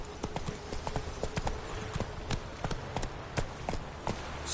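Hooves of Roach, the horse in The Witcher video game, clip-clop in a clear, evenly spaced walking rhythm, each strike sharp and distinct against a quiet in-game background.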